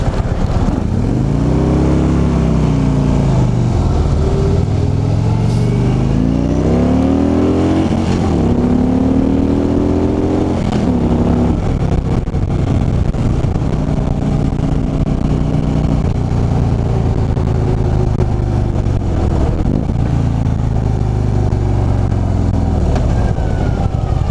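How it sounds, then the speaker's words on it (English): A Ferrari sports car passes close by with its engine revving, pitch sweeping up and down through several loud gear changes before settling into a steady roar, heard from roadside alongside a motorcycle rider. "there is a Ferrari literally behind me"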